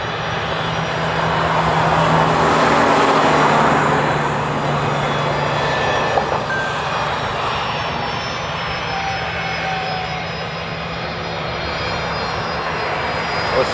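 Airplane flying past during morning arrivals at Honolulu airport, a broad steady engine roar that swells slightly early on and then holds, sounding fairly close, with no talking.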